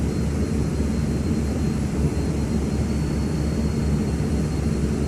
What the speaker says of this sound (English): I'm trying to see why our props are a little bit off sync here.